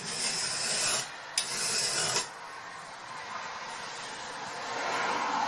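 A file rasps across chainsaw teeth to sharpen them, producing close, steady scraping strokes with a harsh hissing texture, a couple of brief pauses and small knocks between passes, and no talking.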